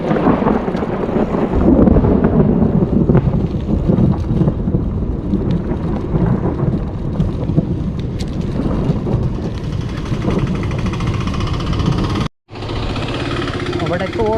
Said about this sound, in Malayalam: ഇതുകൊണ്ട് അവിടെ നിന്ന് മഴ വരുന്ന സൗണ്ട്.